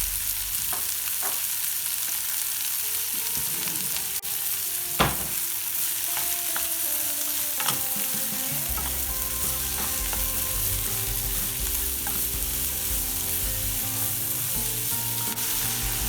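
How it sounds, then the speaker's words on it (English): Onion and salt go into a hot frying pan for a chicken korma, a steady close sizzle with a few sharp clinks and stirring scrapes, and a low hum settling in underneath partway through. "Now we're going to add our onion. We're going to add our salt."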